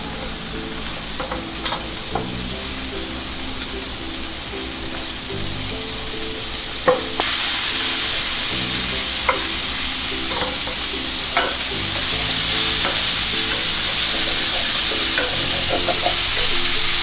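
Halved cherry tomatoes frying with pancetta in a hot pan, a steady loud sizzle broken by repeated scraping and clinking as a utensil stirs them, no voices.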